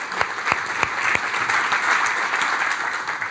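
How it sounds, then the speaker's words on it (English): An audience applauds at a startup talk, a crowd clapping steadily for a few seconds with some sharp individual claps standing out near the front. "Can I get a big round of applause for all of our live stream attendees?"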